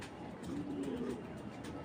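A female Belgian racing pigeon gives a single soft, low coo, fairly faint and alone.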